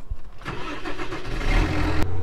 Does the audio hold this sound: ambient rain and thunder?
no